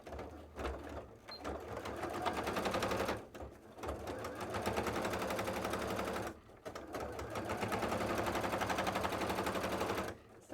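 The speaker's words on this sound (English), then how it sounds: "I'm doing an extra top stitch" A sewing machine top-stitches fabric for a cosplay leg piece, running in fast continuous bursts of rapid needle clatter, pausing briefly twice between runs, close and fairly loud.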